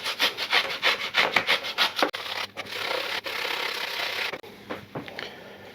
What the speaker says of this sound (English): We're gonna take an English cucumber and a box grater.